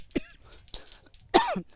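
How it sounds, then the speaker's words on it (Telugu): A person coughs from rust dust from corroded iron bars at housing blocks, three short raspy coughs close to the microphone, the last one loudest. "ఆ సిలుం నోట్లోకి వెళ్ళి దగ్గు పడుతున్నటువంటి పరిస్థితి"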